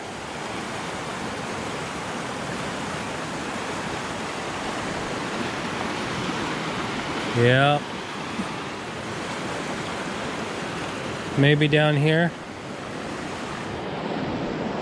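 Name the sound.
fast-flowing river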